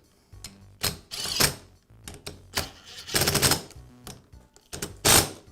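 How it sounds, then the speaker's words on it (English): Bolts being tightened on a Karcher pressure washer pump during a repair, heard as a series of sharp mechanical ratcheting bursts and clicks in irregular rhythm, close and fairly loud, with no talking. "I'll go ahead and tighten up the first two bolts"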